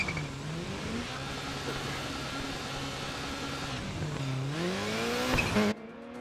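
A Richard Burns Subaru Impreza WRC rally car races a Polish rally stage in Dirt Rally 2.0. The engine drones steadily and its pitch rises and falls through gear changes over tire and gravel noise, then cuts off sharply.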